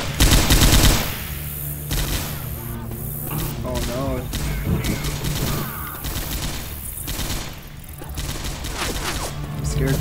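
Rapid bursts of automatic gunfire and shots fill a Left 4 Dead 2 match, loud and dense at the start and recurring in clusters, with players talking over the shooting.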